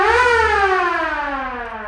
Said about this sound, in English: Or not the horn, the siren rather.